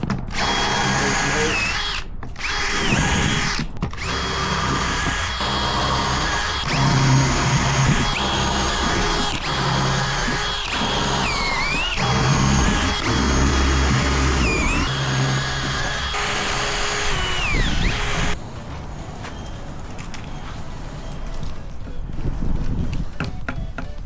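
A power drill drives fully threaded fasteners into door frames during a nightclub-to-house renovation, with loud whining bursts that rise and fall over a long stretch and continuous clattering work noise throughout.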